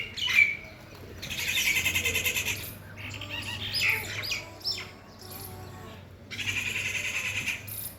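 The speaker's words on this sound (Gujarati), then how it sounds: "કાબર સિવાય બીજી બે ચકલીઓ છે" Mynas and small sparrows chirp and squawk around a farmhouse, with bursts of busy, overlapping calls that come and go over several seconds, and quieter gaps in between.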